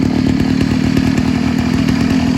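A small APC mini bike or chopper engine idling on choke while it warms up, a loud, close, steady buzzing putter with a rapid even firing rhythm, no talking.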